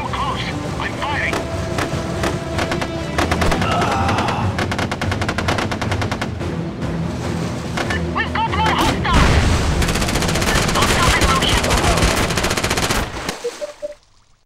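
Rapid automatic gunfire and explosions from the tactical shooter SOCOM 3, loud and continuous bursts of machine-gun fire with booms, over radio chatter and background game noise, ending abruptly.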